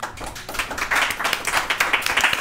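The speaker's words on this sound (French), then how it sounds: "On va arrêter à un moment donné les applaudissements." A small group claps enthusiastically during a tabletop role-playing game session, a dense burst of hand claps at close range, short and continuous with no voices.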